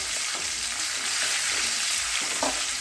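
Ginger garlic paste sizzles in hot oil with carrots and garam masala while being stirred, giving a steady, close, dense frying hiss with faint stirring scrapes throughout.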